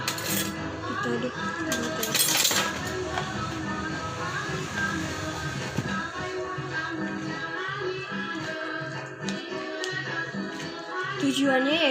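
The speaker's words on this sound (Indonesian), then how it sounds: "Kita aduk" A utensil scrapes and clinks steadily in a pan while blended spice paste is stirred into tempeh, a continuous close scraping with occasional sharper metallic knocks.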